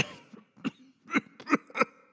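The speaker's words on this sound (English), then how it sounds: "How long have you had that cough?" A man coughs in a series of five harsh, spaced bursts, close and fairly loud with short quiet gaps between, in a dramatized reading of a gothic tale.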